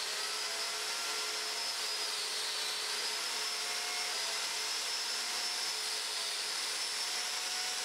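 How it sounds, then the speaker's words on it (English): Biscuit joiner cutting slots in timber for the infill pieces of an outdoor picture frame deck, a steady high-pitched motor whine that holds for the whole stretch without a break. "I've set the biscuit joiner up for the correct depth and the correct size biscuit."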